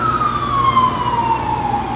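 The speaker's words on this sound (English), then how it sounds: "and you got a siren going off" An emergency siren heard outdoors on a fine day, a single loud steady tone that slowly falls in pitch over a constant background hum.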